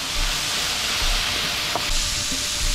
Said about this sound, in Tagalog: Iprito-prito ko muna siya ng kaunti